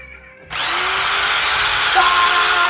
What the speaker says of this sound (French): Mais en fait, la scie à mousse, on peut pas se couper.